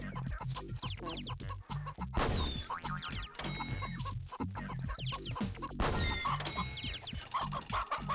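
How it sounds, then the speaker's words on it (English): Chicken clucks from a video game soundtrack, repeated bursts of clucking and squawks over a busy musical beat with bouncy boing-like effects, loud and continuous. "This fucking game's soundtrack is amazing, because a lot of it's like just fucking chicken noises."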